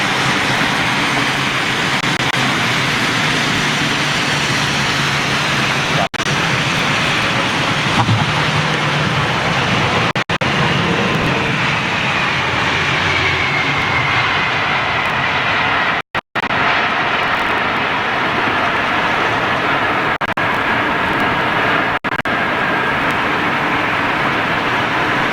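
A Boeing 777 landing at Heathrow in stormy conditions gives a steady, loud roar of jet engines under heavy wind noise and gusts buffeting the microphone, with no voices.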